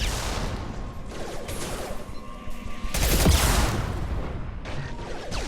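Shotgun blasts and combat noise in Mass Effect Legendary Edition, with dense overlapping gunfire, booms and mechanical clatter that stay loud and continuous, peaking in a heavy blast midway.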